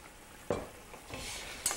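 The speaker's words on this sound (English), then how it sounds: "We'll give that a stir." A spoon stirs tomato sauce seasoned with salt and sugar in a pan, giving a soft sizzle with a few close scraping strokes, heard alone without talk.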